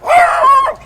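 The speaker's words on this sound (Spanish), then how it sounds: "los perritos ahí no están ladrando" A dog in Pica, Chile, gives one short, loud bark or yelp close by, a rising then falling tonal cry lasting under a second.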